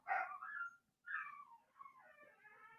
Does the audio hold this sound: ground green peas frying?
no